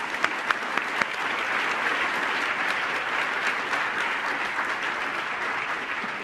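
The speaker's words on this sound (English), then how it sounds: "please join me in welcoming Paul Polman with a round of applause" A large audience applauds to welcome a keynote speaker on stage, a thick, sustained wash of clapping with a few sharper nearby claps at the start, holding steady throughout.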